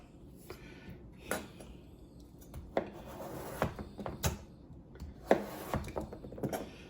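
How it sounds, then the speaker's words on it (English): A knife squaring off a potato on a cutting board, a series of irregular sharp chops and thuds against wood with some scraping in between, close and fairly clear. "I'm going to square the potato off."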